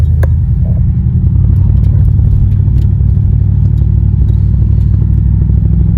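A car drives along with a steady low engine rumble and road noise, light clatters and faint clicks scattered through, continuous and fairly loud from inside or close by.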